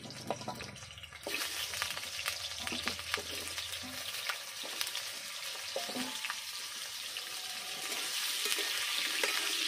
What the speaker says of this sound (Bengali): আলুগুলো আমি একটু ভেজে নেব।